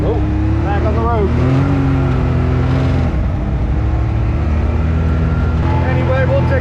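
A UTV drives along a road with a loud, steady engine drone and some tonal rises as it shifts and accelerates. Someone talks over the engine noise.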